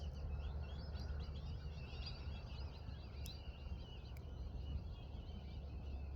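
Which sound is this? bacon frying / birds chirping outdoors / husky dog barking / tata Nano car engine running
birds chirping outdoors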